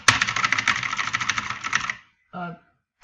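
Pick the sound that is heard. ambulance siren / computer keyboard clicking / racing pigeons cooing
computer keyboard clicking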